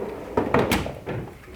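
A miscellaneous drawer in a tool chest slides open with a couple of short rattling scrapes and a faint metallic clunk, heard close and on its own.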